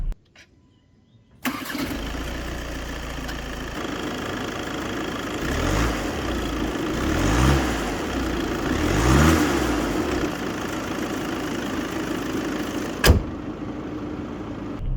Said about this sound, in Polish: tak ten silnik klekocze